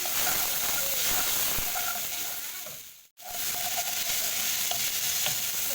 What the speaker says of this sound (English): Next I'll add in my ginger, onions and garlic all at once.